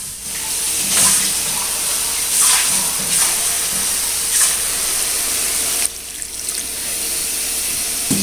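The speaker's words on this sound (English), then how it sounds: "I'm gonna add some water." Water poured into a pot of sweet and tangy spareribs cooking on a stove, a steady splashing pour running continuously and fairly loud, with no talking.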